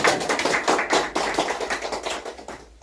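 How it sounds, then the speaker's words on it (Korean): Audience applause at an outdoor appointment ceremony for an anti-corruption committee in Masan, a steady burst of many hands clapping close by for a few seconds, gradually thinning toward the end. "박수 한번 보시죠"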